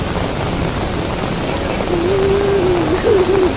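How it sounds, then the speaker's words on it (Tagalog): Heavy rain pours in a dense, loud, steady hiss close by, with a faint whine rising over it near the end. "Kasi malakas ang ulan dito."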